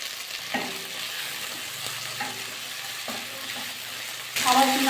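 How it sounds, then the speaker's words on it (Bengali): Onion and Malabar spinach stems fry in a pan with a steady, soft sizzle, punctuated by occasional utensil taps while stirring, and a louder burst of sizzling near the end. "একসাথে আমি ভাজা করে নিচ্ছি।"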